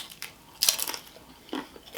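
Crisp bites into a crunchy fried crab rangoon wonton with a sweet cream cheese filling, a few close, sharp crunches separated by quiet pauses.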